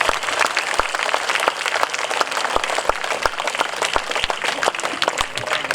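Audience applause after a children's music and dance performance at a public arts event, a steady mass of clapping from a large crowd, with a few sharper near claps standing out across the whole stretch.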